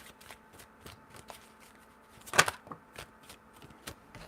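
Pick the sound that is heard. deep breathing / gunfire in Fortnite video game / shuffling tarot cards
shuffling tarot cards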